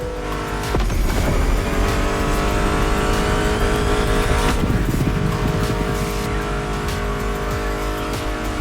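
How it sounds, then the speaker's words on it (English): Muscle car engines roar and rev in The Crew Motorfest racing game, with tire squeal and a steady, loud drive blended over continuous music throughout. "Meshes well with the sound of the engines, you feel me?"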